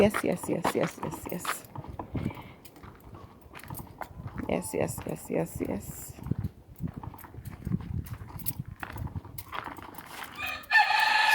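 Hens at a garden chicken coop cluck and call in bursts, with a rooster-like crow, close by and fairly loud, separated by brief quieter gaps.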